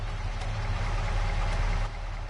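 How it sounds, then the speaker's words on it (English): A truck engine in Farming Simulator 25 runs loud and close, a steady low idling drone with no other sounds over it. "Oh, this truck's quite loud, isn't it?"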